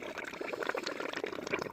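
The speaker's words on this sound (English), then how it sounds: "It's just the water draining out of the bowl." Water trickling and draining out of a gold prospecting bowl outdoors, a steady close splashy dribble lasting the whole moment with no talk.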